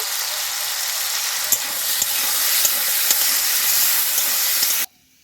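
Cut potato pieces frying in oil with salt and turmeric, a loud continuous close sizzle and hiss with small crackles, ending abruptly.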